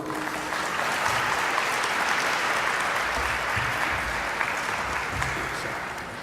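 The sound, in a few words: audience applause welcoming a speaker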